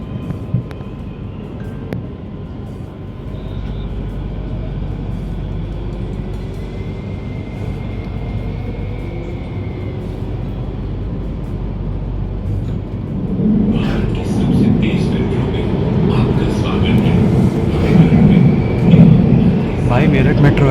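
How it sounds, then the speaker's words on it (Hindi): Meerut Metro train running, a steady low rumble and rolling drone throughout that swells louder in the second half, with faint talk in the background. "मेरठ मेट्रो है, ये सेकंड फास्टेस्ट है"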